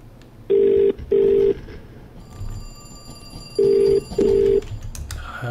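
A house telephone rings in the horror adventure game The Cat Lady, sounding as two pairs of short, loud electronic rings with a pause between the pairs, over a quiet ambient background.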